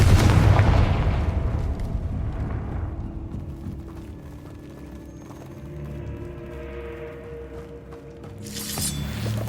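A Confringo fire spell goes off in Hogwarts Legacy with a loud, heavy burst at the start. A rumbling tail fades over several seconds, and a fresh crackling flare comes near the end.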